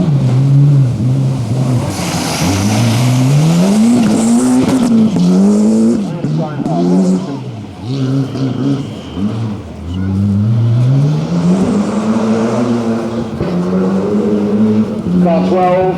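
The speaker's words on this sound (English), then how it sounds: "Lindholm in the S2 of Cosworth." A Ford Sierra Cosworth rally car charges through a special stage at Weston Park on the 1993 Network Q RAC Rally, its engine rising and falling hard through gear changes with tyre squeal, loud and close, while a commentator talks over it.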